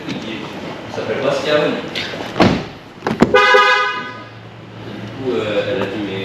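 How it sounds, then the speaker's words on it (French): Parked car with engine running and driver stepping out with keys, as a high-powered 460 hp, 2.5-tonne vehicle sounds several short honking horn tones amid door thuds, someone talking nearby. "je crois qu'il sonne à chaque fois qu'on sort de la voiture alors qu'il est démarré et qu'on a les clés en poche"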